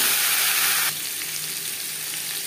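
Potato pieces frying in hot oil with cumin, a steady broadband sizzle that is loud at first, then drops to a softer, continuous hiss once the potatoes settle in the pan.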